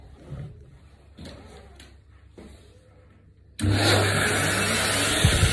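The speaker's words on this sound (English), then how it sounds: "I will just get the dryer and I'll pop that on" A few soft thumps and rustles, then a pet hair dryer set on low abruptly switches on with a steady, loud whirring blower hum that continues to the end while grooming a cat.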